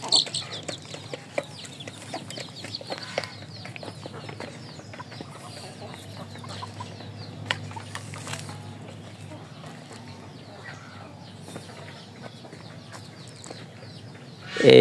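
Native village chickens cluck softly and intermittently while pecking at feed on a rural homestead, faint and fairly close, with scattered small knocks and rustling in the background.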